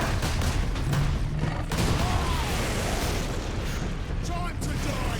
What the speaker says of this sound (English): Oh no, those are rockets.